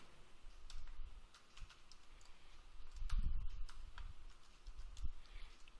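Keystrokes from typing Python code on a computer keyboard: quiet, irregular taps and clicks in short clusters, heard close up against a faint background hiss.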